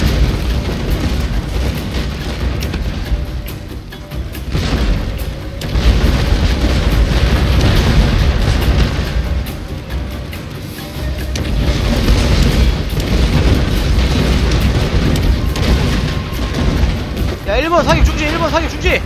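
Artillery fire and explosions in Total War: Shogun 2, a steady rumble of booms and crackling blasts rolling throughout, with loud peaks and a few dips, under shouted talk.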